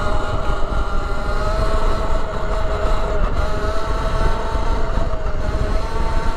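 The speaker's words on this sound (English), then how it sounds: "Just feathering the throttle because it's so much power." Sur Ronster electric dirt bike accelerating with the throttle feathered, a steady high motor whine under loud rushing wind and road roar, continuous and close, with no talk.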